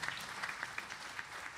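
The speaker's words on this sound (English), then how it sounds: "So let's give our Vyasji a wonderful round of applause." Audience applause at a Bhagavat Katha religious gathering, a short burst of steady clapping with scattered sharper claps, moderately loud and continuous with no talk over it.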